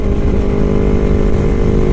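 Yamaha YFZ-R3 motorcycle ridden at high speed, a loud, steady engine drone with constant wind roar, sustained without a break.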